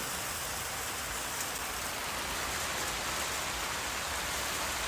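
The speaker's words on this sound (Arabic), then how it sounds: "الجو مطر ومطر قوي ويزيد" Heavy rain pours down by the sea in Uzungöl, Turkey, a dense, unbroken roar, loud and constant throughout with no voices.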